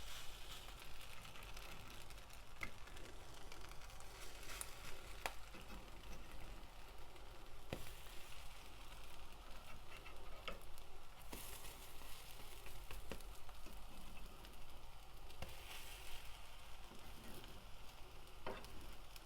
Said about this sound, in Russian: Ждем, пока вот с одной стороны они прожарятся.